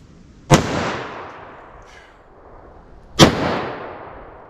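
Two sharp, loud handgun shots from a .44 Magnum firing Buffalo Bore 180-grain rounds in an outdoor wood penetration test, spaced about three seconds apart, each followed by a rolling echo that fades.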